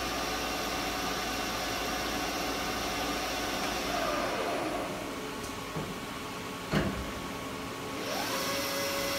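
A Haas VF-6 vertical CNC mill spindle runs at 1,000 RPM, a steady close whirring hum with a constant machine drone and a couple of brief clunks, heard alone without talk.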